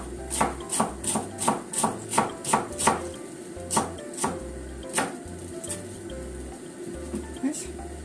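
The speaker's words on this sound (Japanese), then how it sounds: "キャベツも千切りにしますね。" A knife shreds cabbage on a cutting board in a run of quick, evenly spaced chops that slow and thin out toward the end, close up with a faint voice underneath.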